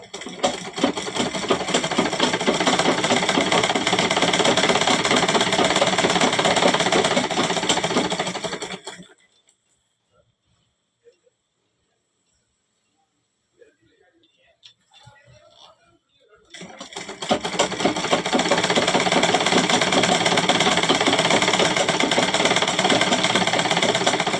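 A sewing machine runs a dense, steady lock stitch for several seconds, stops for a quiet pause of a few seconds, then starts up again, doubling back over the same line of stitching on cotton fabric.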